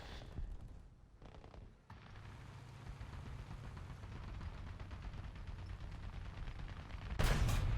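Gunfire in the War Thunder video game, a dense rapid rattle of shots that runs almost without a break, with a brief lull early on and a loud burst at the very end.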